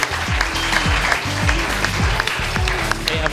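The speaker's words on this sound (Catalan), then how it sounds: "Pues un aplaudiment pel safreig" An audience claps steadily for a few seconds at a live Catalan podcast recording, the applause close and even, with a faint voice or two underneath.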